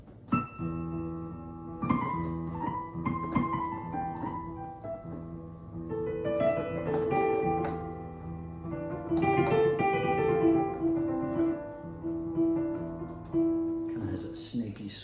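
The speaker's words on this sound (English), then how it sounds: "So this is an example of Phrygian mode right here." A piano plays chords on the white notes over a low E bass, giving a Phrygian-mode sound, with slow melodic lines that rise and fall. It is heard alone, moderately quiet, with sustained notes ringing.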